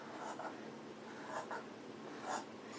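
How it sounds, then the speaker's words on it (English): Scissors cut through a cotton pillowcase up close, giving a few soft, papery snipping and rasping strokes in quiet surroundings. "I'm going to go ahead and use my scissors for that"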